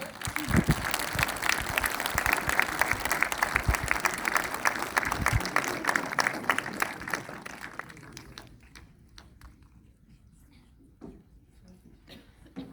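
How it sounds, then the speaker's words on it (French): An audience at a live gladiator combat show claps steadily and loudly, and the applause thins out over the last few seconds into scattered claps. "On peut les applaudir."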